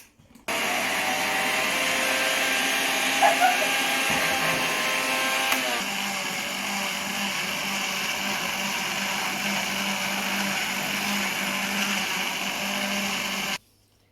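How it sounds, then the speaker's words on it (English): An electric blender whirs at a steady, loud pitch as it blends pineapple with lemon juice, the motor tone dropping slightly partway through before cutting off abruptly, with no talking. "And now you blend until smooth."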